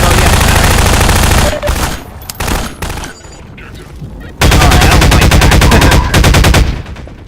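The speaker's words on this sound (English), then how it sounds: "The assault rifle interrupts me while I'm trying to be in the middle of a fight" Assault rifle gunfire in the video game Prospekt, loud rapid automatic bursts, a long stream, then short broken shots and a pause before another sustained burst.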